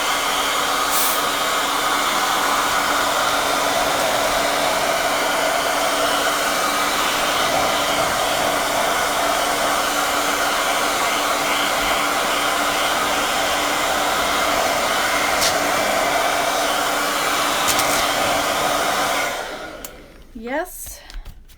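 A hair dryer blows steadily and loudly to dry paint on a bird nest craft project, a continuous whooshing roar for about twenty seconds before switching off, followed by a few faint handling sounds.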